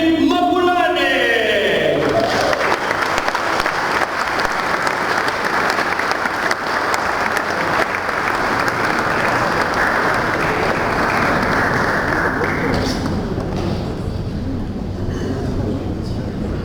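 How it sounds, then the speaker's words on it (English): Sustained applause from a large audience at the opening ceremony of a stamp exhibition in Cape Town, a dense, loud wash of clapping that holds steady for well over ten seconds before thinning slightly near the end. "What a wonderful performance. A round of applause again."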